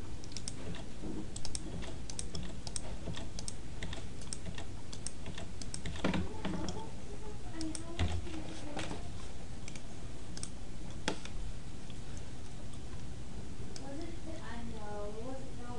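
Keys clatter on a computer keyboard in quick, uneven bursts of clicks, close and fairly quiet, while a person talks over much of the typing.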